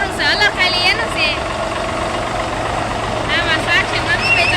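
A tractor powering a farm huller (thresher) idles with a heavy, continuous engine rumble, while voices talk over it in short bursts.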